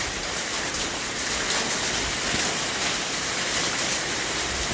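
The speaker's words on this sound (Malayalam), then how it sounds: "നല്ല മഴയാണ്" Heavy rain pours steadily onto a rooftop, a dense, continuous hiss of close drops with no voices over it.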